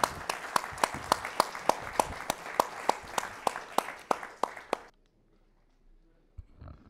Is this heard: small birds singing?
no